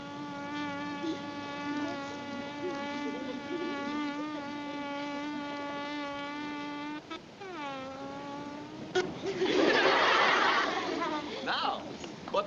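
A voice imitates a buzzing bee, holding a long, steady nasal drone that wavers and bends in pitch before breaking off into a burst of laughter near the end.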